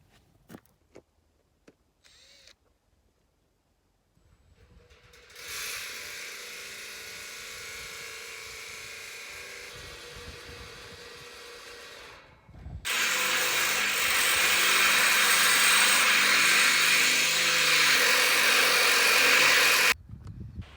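A power drill grinds steadily through a metal latch, first at a moderate level and then louder and harsher for several seconds before cutting off.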